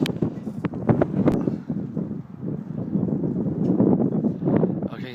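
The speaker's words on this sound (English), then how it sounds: "It's kind of a windy day." Gusty wind buffets a rooftop in St. Louis where a vertical wind generator stands, a steady loud rushing roar with rumbling microphone buffeting that swells and dips throughout.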